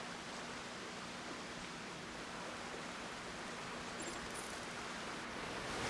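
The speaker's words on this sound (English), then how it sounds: "Waterfall right here looks amazing." A waterfall beside a pool in a western-themed video game, a steady broadband rush of falling water that stays constant and fairly loud throughout, with no talking.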